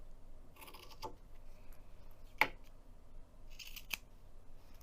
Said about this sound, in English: we're also going to trim the fabric so that it's even with the zipper tape